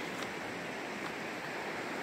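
Steady broadband rush of flowing river water on a clear, greenish emerald Oregon river near Butler Bar Campground, continuous and fairly close, with no voices.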